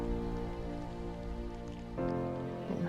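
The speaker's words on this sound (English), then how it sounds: "Still raining." Steady rain falls during a hike on the Tour du Mont Blanc, a soft continuous patter of drops on surfaces heard close by and unbroken for several seconds, with no voices.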